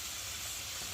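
Cumin paste, ginger paste, onion paste, tomato and turmeric sizzle steadily in a hot pan, a close, continuous hissing fry with no voices.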